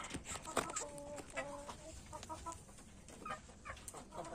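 Chickens cluck and murmur inside a breeding coop, several birds overlapping in short rising calls over a low steady background, fairly faint and close with no talk.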